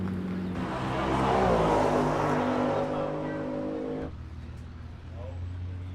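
Sports cars including Alfa Romeo, Pagani, Lamborghini, BMW and Ford circulating on the Goodwood Motor Circuit, a loud engine roar that swells and fades as cars pass at a distance, with voices talking over it.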